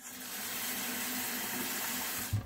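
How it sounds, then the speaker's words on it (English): A little water poured onto beans in a blender jar, a steady close trickle of running liquid lasting a couple of seconds before ending with a soft bump. "Just add a little water"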